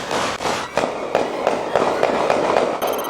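Gunshots reported inside Seattle's CHOP protest zone ring out as a rapid series of sharp cracks, about eight or nine evenly spaced reports, loud and echoing against a noisy outdoor background.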